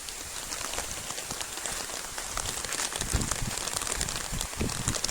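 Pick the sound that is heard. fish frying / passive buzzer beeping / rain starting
rain starting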